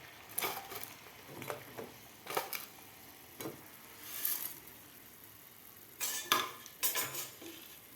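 Maggi noodles go into a cup of boiling water in a small pot and get stirred, with a series of soft scraping and clinking strokes against the pot, spaced irregularly and clustered toward the end.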